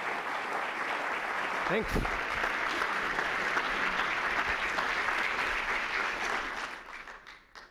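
An audience at a talk on Prohibition in Kansas City applauds steadily as a speaker is welcomed to the stage, sustained clapping that fades out toward the end, with a brief spoken word over it.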